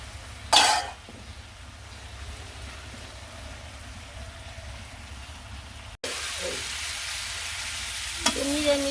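Mixed vegetables sauté in a pan in a village kitchen, a steady frying sizzle throughout with occasional stirring scrapes and knocks, heard close and alone.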